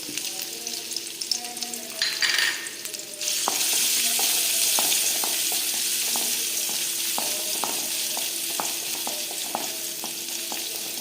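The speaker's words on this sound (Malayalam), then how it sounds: "ഒന്ന് വഴന്ന് വരട്ടെ കേട്ടോ." Oil crackles after a short clatter, settling into a steady sizzle of ginger and garlic sautéing, with scattered pops and spatula taps throughout.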